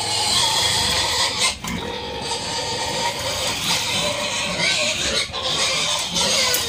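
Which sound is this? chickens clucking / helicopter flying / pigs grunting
pigs grunting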